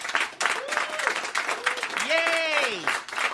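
Audience applause at the end of a live comedy show: steady clapping runs underneath while voices whoop and cheer loudly over it.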